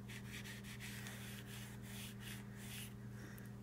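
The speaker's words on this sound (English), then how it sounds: "I'm going to take my sponge, since this is fine detail, and come back around with it to clean off" A sponge wipes excess gilding off a handmade card, giving soft, repeated scrubbing strokes close by over a steady low hum.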